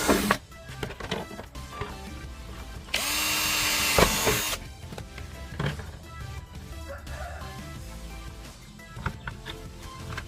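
A power drill bores a hole for a homemade rat trap in one loud whine of about two seconds, set among handling clatter and knocks.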